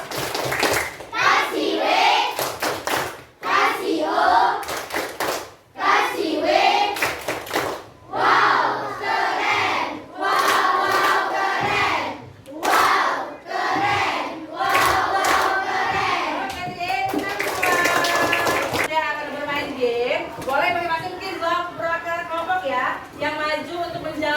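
Schoolchildren in a classroom chant together and clap in quick rhythmic bursts for a 'tepuk wow' cheer, a lively loud group of young voices with repeated clapping patterns and shouted calls across the whole stretch.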